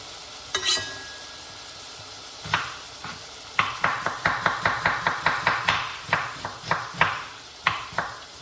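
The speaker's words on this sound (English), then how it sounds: "you want to cut white onion" White onion being chopped with a knife on a cutting board: a steady series of sharp, close taps in an uneven rhythm, with a faint sizzle and a few clinks in the background.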